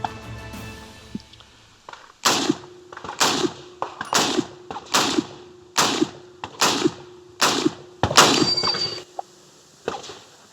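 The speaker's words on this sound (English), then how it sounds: "now I'm going to shoot the M1 Garand" An M1 Garand rifle fires about eight loud, sharp shots in a steady rhythm outdoors, each with a ringing tail; a metallic ping follows near the end of the string.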